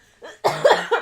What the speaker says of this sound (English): I've been trying to laugh all day, and my laugh turns into a cough